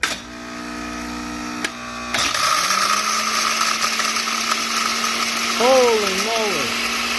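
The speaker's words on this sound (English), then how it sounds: "Okay, now let's turn this on." A blender starts up and runs loudly, grinding shattered hardened honey into powder, a steady motor roar with a rising whine; a person talks briefly over it.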